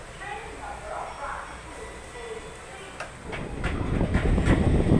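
A passenger train runs on a railway near Kharagpur and Howrah in West Bengal, heard from inside a carriage. A steady rumble swells louder toward the end with rhythmic clacks over the rails. Faint voices sit underneath.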